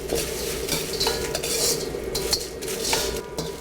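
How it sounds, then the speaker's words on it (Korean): Sichuan peppercorns, mala peppercorns and dried Sichuan chillies stir-fried over medium heat in a wok, with steady sizzling and rapid metal spatula scrapes and clinks against the pan, loud and close. "화조, 마조, 사천고추 같이 넣어 주신 후에 중불로 은은하게 향이 올라올 때까지 볶아줍니다"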